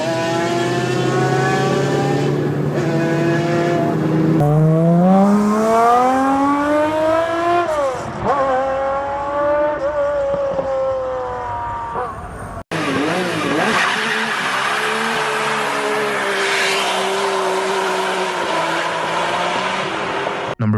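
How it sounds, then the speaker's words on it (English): A Ferrari F50 engine roars loudly, revving up and down through rising and falling pitch sweeps, with a cut partway to another hard acceleration pass, heard alone with no talking. "the F50's engine lets you hear everything."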